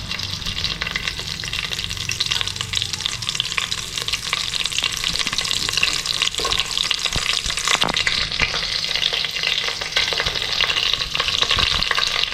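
Curry leaves crackle and sizzle in hot oil as a tempering for soybean vegetable pulao, a steady loud frying hiss with occasional stirring scrapes and no talk.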